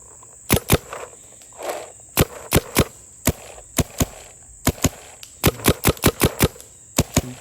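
Paintball markers, a Planet Eclipse Geo R5 and a stock Dye DSR+, fire sharp, loud, close pops, some singly and some in quick bursts, with short pauses between strings.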